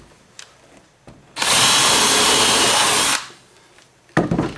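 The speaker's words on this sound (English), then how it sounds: "now I got to just move this far enough so I can drill." A power drill boring into wood for the legs of a Kenya top bar hive: one continuous loud whine lasting about two seconds, framed by faint handling knocks before and after.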